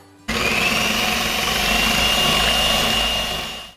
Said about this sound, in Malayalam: ഇനി ഇത് ബീറ്റർ ഒഴിച്ചിട്ട് നന്നായിട്ട് ബീറ്റ് ചെയ്തെടുക്കാം.